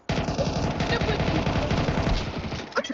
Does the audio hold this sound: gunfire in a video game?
yes